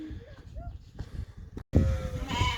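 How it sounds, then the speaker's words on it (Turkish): Small lambs in a farm barn bleat in short, wavering cries among rustling and shuffling, fairly close, with busy barn noise building toward the end. "Bak burada küçük kuzu var."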